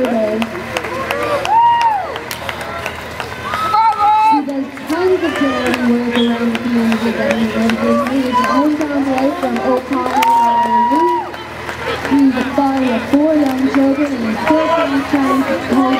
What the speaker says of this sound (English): Come on, people, cheering your hometown boy.